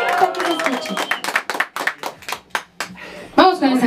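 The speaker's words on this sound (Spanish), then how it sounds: "aplauso bien bonito que lo escuchen." Guests at a quinceañera party clap in a brief round of applause, scattered sharp claps close by, with voices speaking over them.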